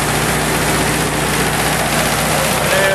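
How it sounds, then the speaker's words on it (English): A small four-cylinder motor, apparently rebuilt, idles with a steady low rumble and constant hum, loud and close with no voices over it. "Here's the little"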